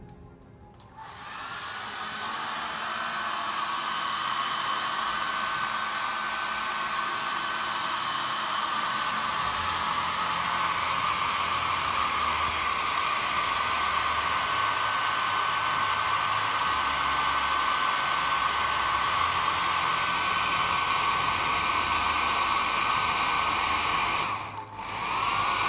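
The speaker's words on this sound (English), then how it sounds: "Here I will use a dryer to increase the temperature of the atmosphere." A hair dryer runs steadily and loudly for the whole stretch, a constant broadband whoosh with a brief dip near the end, used to heat the air around a temperature sensor.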